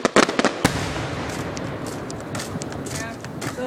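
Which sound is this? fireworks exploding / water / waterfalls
fireworks exploding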